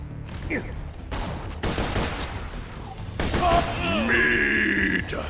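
Pistol fire in the Borderlands 2 game: several quick bursts of shots over a busy backdrop of explosions and effects, then a whining, tonal weapon sound toward the end.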